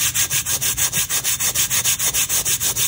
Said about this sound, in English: you're just going to take your finger and you're going to rub it down